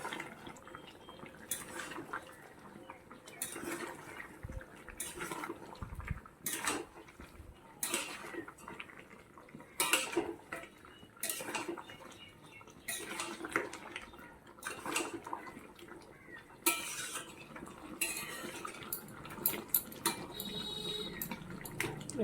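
Suji kochu curry gets stirred in a pot, with irregular scraping and clinking of a utensil against metal over a wet bubbling background, fairly close and moderately loud, with no talking.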